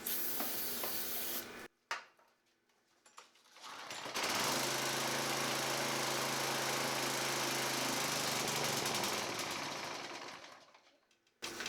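A hiss of starting fluid sprayed into the air passage of a small gas engine is followed by the engine firing and running loudly for several seconds, then fading out as it dies.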